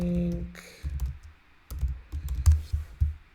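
Keys clatter on a computer keyboard as shortcuts are typed in a code editor, irregular clusters of clicks and taps at close range, following a brief hum.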